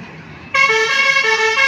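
A vehicle horn at a fair, a loud sustained bright tone that starts suddenly after a moment of low background rumble and holds steadily to the end, close by.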